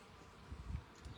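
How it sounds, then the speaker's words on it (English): A bee buzzes close by while it works at cactus flowers outdoors, a low wavering drone that swells and fades in soft pulses over about a second, with no voices. "Here's a bee struggling and harvesting."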